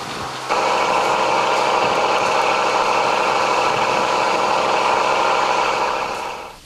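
A pinisi boat's engine idles with a steady mid-pitched drone, starting abruptly and running loud and constant before easing off at the very end.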